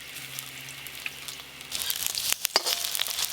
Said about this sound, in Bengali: এই যে বড়াগুলো সুন্দর ভাজা হয়ে গেছে, এবার তুলে নেব।